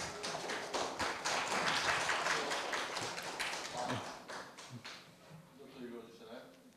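An audience applauds at a university campus-town startup competition award ceremony: crowded, fast clapping that stays full for several seconds, then thins out and trails off toward the end.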